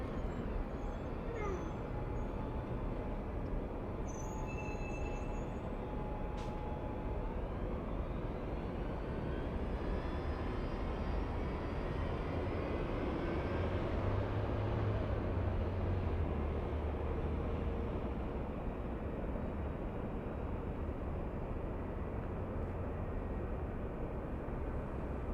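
Delta airliner passing directly overhead at LAX, a broad, continuous jet roar that swells slightly toward the middle and stays steady throughout, with a faint tone sweeping through it.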